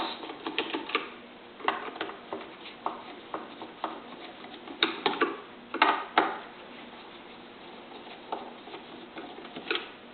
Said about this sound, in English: we're going to take our Phillips head screwdriver right here and unscrew these 4 screws